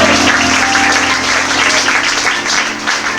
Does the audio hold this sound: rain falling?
no